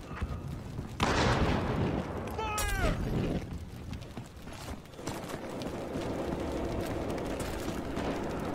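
Battlefield Hardline gunfire in a bank map round: bursts of shots and explosive cracks ring out amid chaotic combat noise, loud and near at first and then a steadier rumbling backdrop of distant firing.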